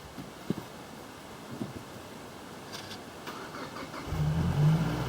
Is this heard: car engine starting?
yes